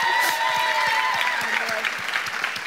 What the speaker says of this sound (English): We're clapping for Jake